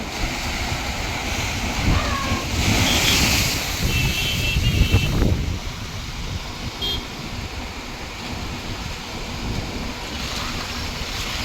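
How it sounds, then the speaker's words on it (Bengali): Sea waves surge and wash in at Digha beach with a swelling roar midway, then settle into a steady rush of surf mixed with wind buffeting. "তারপর ঢেউ দেখে কিছুক্ষণ দাঁড়িয়ে"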